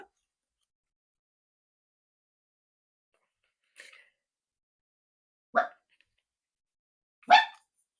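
A puppy gives three short, sharp yips or barks, spaced a couple of seconds apart amid near silence, each one louder than the last.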